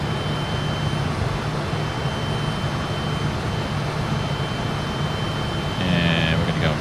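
Fokker airliner engines climbing in Microsoft Flight Simulator 2024 give a steady, loud jet roar with a constant low hum and a high whine, unbroken across the clip with no voice over it.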